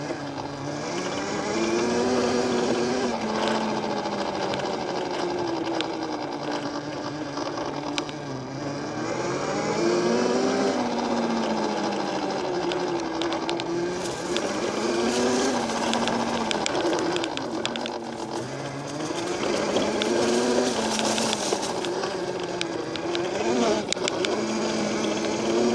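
A VALTINSU EM5 electric dirt bike being ridden, its motor giving a steady whining hum with rising and falling pitch as the rider speeds up and slows, close and continuous throughout, no talking.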